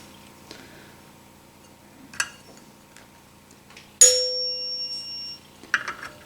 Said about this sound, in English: You want it where it's just loose enough where it's going to hit the chime bar as square as possible.